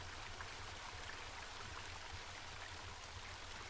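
A stream of water flows in the video game Home, a steady hissing rush that stays even and close throughout, with no speech.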